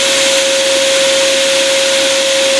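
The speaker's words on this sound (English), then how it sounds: "this is where the Vinyl Vac comes into play" A Vinyl Vac wand sucks cleaning fluid off a wet vinyl record, giving a steady, loud vacuum whoosh with a constant whining tone throughout.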